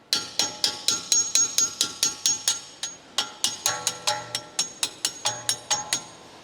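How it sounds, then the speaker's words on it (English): A ball-peen hammer strikes a steel strut-to-knuckle bolt on a 2012-2016 Chevrolet Cruze FWD in quick, sharp metallic taps, about two dozen close, ringing blows in bursts with short pauses. "Use the ball-peen hammer to free the bolt."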